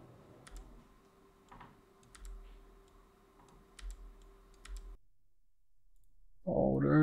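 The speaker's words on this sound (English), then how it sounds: "We click on the nodes tool." Computer mouse clicks while working in 3D print design software, a handful of soft, sparse, isolated clicks at close range over a quiet background, followed by a brief voice at the end.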